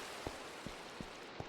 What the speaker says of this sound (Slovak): On prší.